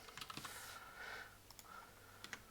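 Clicky keys on a computer keyboard are struck in short bursts of quick taps and then a few scattered presses, close and fairly quiet, while someone types commands into a plugin for the online game LOTRO.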